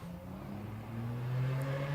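A six-cylinder race car runs on the La Crosse Speedway track during qualifying, a fairly faint engine drone with rising pitch as it accelerates.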